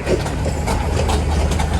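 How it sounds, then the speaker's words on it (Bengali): Mohua Express commuter train from Dhaka pulls into line two at Mymensingh railway junction station, its diesel engine giving a loud, steady, close low rumble with no talk over it. "ঢাকা থেকে এসে ময়মনসিংহ রেলওয়ে স্টেশনে ঢুকছে দেখুন এটা হচ্ছে কম্পিউটার মহুয়া এক্সপ্রেস কম্পিউটার ট্রেন"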